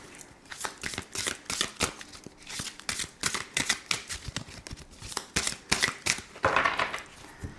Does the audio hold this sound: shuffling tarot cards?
yes